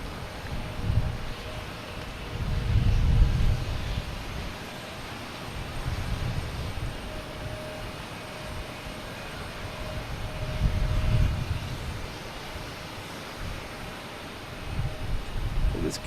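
A JetBlue airliner arriving at Boston Logan Airport, a distant swelling jet roar that rises and fades in broad waves against wind noise on the microphone.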